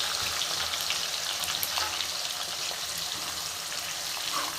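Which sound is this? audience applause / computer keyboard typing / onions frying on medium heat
onions frying on medium heat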